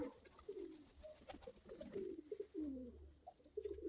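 Pigeons coo softly in a yard, several low rolling calls overlapping at a moderate distance with faint background rustle and no talking.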